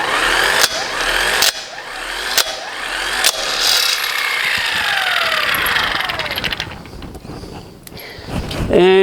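An EZI-JAK tool undoes a wheel nut on an off-road vehicle with loud, sharp repeated ratcheting impacts and clanks, followed by a metallic whirring spin-down and a final clatter.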